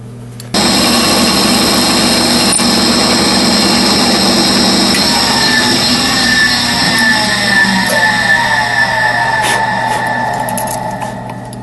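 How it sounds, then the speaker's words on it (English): A power drill boring holes into a wooden mousetrap, a loud, steady high-pitched whine running continuously for about eleven seconds after a sudden start, easing slightly at the end. "I'm going to drill a few holes for the trigger string and for some support strings"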